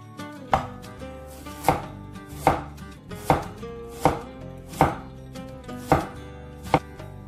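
A knife chops through pickled mustard greens on a board in steady single strokes, about nine crisp, close thuds spaced roughly evenly apart with no talking.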